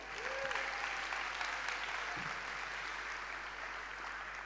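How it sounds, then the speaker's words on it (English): A room of hackathon spectators applauds the ten pitching teams at a live competition event, the dense clapping steady and fairly distant for several seconds with no voices over it. "So one round of applause for our 10 pitching teams today."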